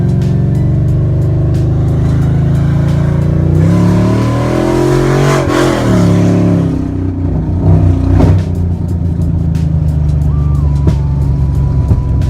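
A Chrysler 300C fitted with a Walbro 450 fuel pump accelerates hard, its engine roaring loud and close through rising revs that swell, dip and climb again before easing off.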